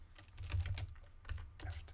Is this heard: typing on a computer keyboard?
yes